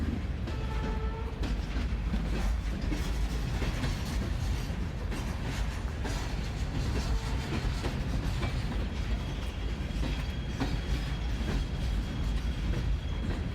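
A coal train rumbles past steadily, with rhythmic clickety-clack of wheels over rail joints and occasional faint squeals, continuous and loud throughout.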